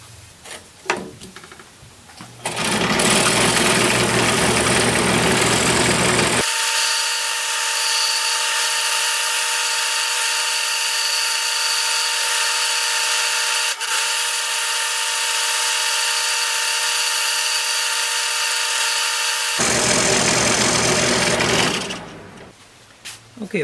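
A power tool cuts pumpkin pieces with a loud, steady high whine that runs for about thirteen seconds, with quieter handling noise before and after it.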